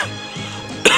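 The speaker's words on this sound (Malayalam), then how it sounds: "എന്തോ സിഗരറ്റ് വലിച്ചാൽ മാത്രമേ ആൾക്കാർക്ക് ചുമയ്ക്കാന്നുള്ളൂ" A single short cough close by, sharp and throaty, with a quieter breathy lead-in before it.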